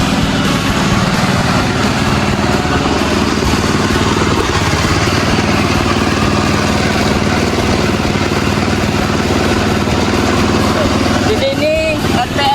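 A compressor driven by a combustion engine running at about 1895 RPM, a loud, steady mechanical drone with clattering texture throughout, close by.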